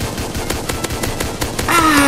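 Guns fire in a video game as a fast, regular string of sharp automatic shots at close range, followed at the end by a brighter burst of game sound effects.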